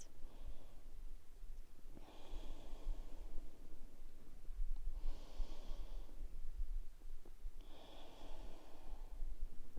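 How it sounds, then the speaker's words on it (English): Deep, slow breaths during a pilates mat exercise, three long inhale-exhale cycles about three seconds apart, breathy and close with a faint snorting edge, no talking. "2 more big breaths."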